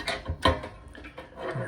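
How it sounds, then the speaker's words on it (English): A clamp tightens onto a copper moonshine still body, giving brief ratcheting clicks and small metallic scrapes and knocks. The handling is close, quiet and short, with no voices. "bring it in and clamp it just like this, right in the middle"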